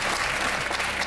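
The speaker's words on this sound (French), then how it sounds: "Allez, on vous applaudit à tout de suite." Studio audience applause on a French TV consumer show, a dense, steady wash of clapping that fills the whole moment without a break.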